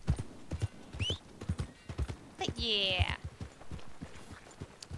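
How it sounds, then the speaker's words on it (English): A horse in the Red Dead Redemption 2 video game clip-clops along in a steady rhythm, breaks into a loud whinny partway through, then keeps trotting while a voice speaks briefly over it. "Jeremy's a very expensive horse. He's the best horse that you can get in the game"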